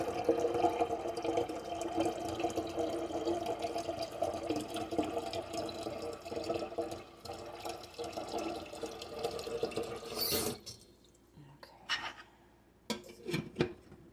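Water runs from a tap into a container, a steady splashing stream that continues for several seconds, then stops, followed by a few scattered drips, clinks and handling noises.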